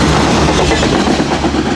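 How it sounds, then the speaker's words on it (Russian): A train arriving at a station in France rumbles loudly and very close, with a dense, continuous clatter of rolling wheels. "еще раз снимаем прибытие поезда. На этот раз во Франции"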